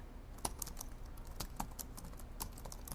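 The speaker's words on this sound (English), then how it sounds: "With a tiny sigh, Minorikawa started typing on his laptop." Quiet, rapid tapping of keys on a laptop keyboard, an irregular patter of light clicks with a few sharper strokes, heard close and alone in a scene from the video game 428: Shibuya Scramble.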